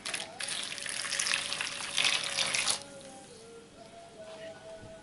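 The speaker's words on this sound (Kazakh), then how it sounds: "Одан кейін оның үстіне қайнаған су құямыз." Boiling water pours over scored tomatoes in a kitchen, a steady rushing splash for nearly three seconds that then drops to a quieter trickle and faint clinks.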